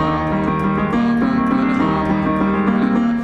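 Piano plays the hard rock section of a song, dense sustained chords and driving bass notes ringing continuously and fairly loud, with no talking.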